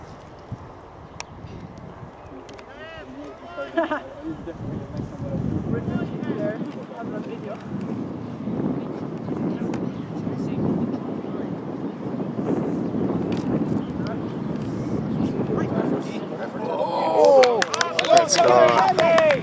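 Strong wind blowing across the microphone during the second half of a football match, a constant rough low rumble that builds toward the end, with faint voices and shouts mixed in.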